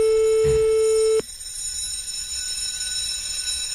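A telephone rings with a steady electronic tone for about a second, then cuts off, leaving faint background hiss.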